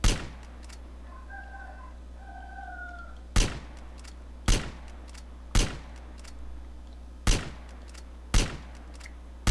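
Sharp gunshots crack one at a time at irregular intervals in the GTA San Andreas Multiplayer deathmatch game, loud against a steady low hum, with brief tones early on and no talking.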